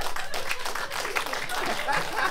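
Studio audience applause at a comedy show, a dense wash of clapping that continues steadily for a couple of seconds, with voices mixed in.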